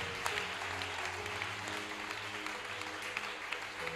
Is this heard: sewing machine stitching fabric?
no